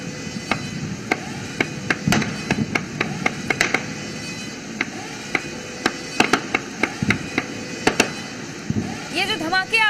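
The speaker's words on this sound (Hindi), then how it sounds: "ये धमाके हैं पाकिस्तानी ड्रोन को मार गिराने के" Explosions and gunfire during the shooting down of Pakistani drones over Punjab: a long series of sharp, distant bangs and pops at irregular intervals over a constant background hum.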